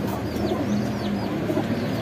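Pigeons, a newly bought blorok pigeon among them, coo with low, throaty repeated calls that stay steady and fairly close throughout.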